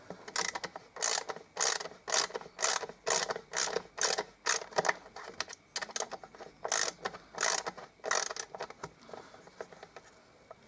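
An 8 mm socket on a ratchet wrench works a bolt during a compressor repair, producing a steady series of loud, close, rhythmic pawl-clicking bursts with short pauses between strokes.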